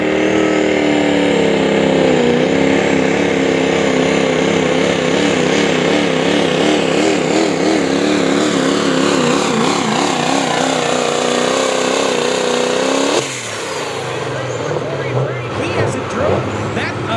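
A mini modified tractor at an OSTPA truck and tractor pull at Dragway 42 in West Salem, Ohio, roars loudly and continuously, its pitch wavering up and down before cutting off abruptly near the end, with an announcer talking over it.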